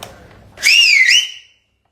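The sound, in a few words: loud celebratory whistle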